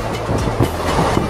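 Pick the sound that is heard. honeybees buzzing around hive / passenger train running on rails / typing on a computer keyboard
passenger train running on rails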